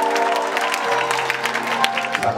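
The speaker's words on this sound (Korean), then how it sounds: "박수 치겠다." An audience applauds continuously for a couple of seconds, a dense, steady wash of clapping with a faint cheer mixed in, fairly close and loud.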